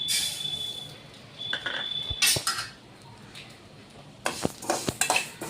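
Raisins, almonds and cashews dry-roasting in a pan, with clinks of a spoon or spatula against metal, light scraping stirs and faint rattling in short bursts.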